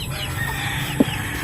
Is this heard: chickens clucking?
yes